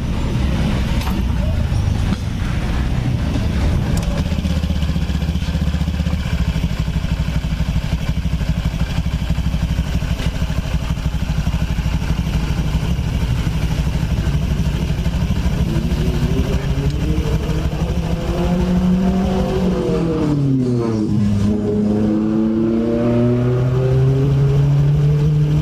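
Honda Scoopy scooter engine running steadily close by, loud and constant, with a sweep of revving near the end that rises and falls in pitch.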